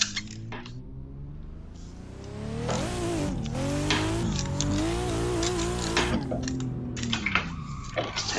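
A BMW in Assetto Corsa swings into a 360 entry on dirt at Bihoku Highlands, the engine droning and rising and falling in pitch while tires scrub and squeal, with a few sharp clicks at the start and end.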